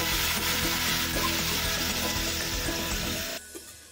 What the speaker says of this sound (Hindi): अभी हम इसमें जो धुले हुए चावल है उसे ऐड कर देंगे